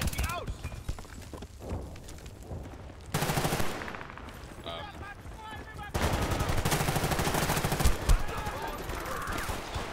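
Rapid gunfire and machine-gun bursts from the video game Battlefield Bad Company 2, sharp repeated shots and louder volleys over a continuous battle din, with players talking throughout.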